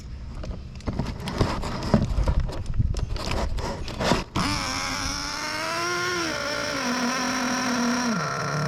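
Hobao Hyper VS2 nitro RC car, rattling pull-start tugs and scrapes, then the small nitro engine catches into a loud, steady high-pitched buzz that rises and dips with throttle.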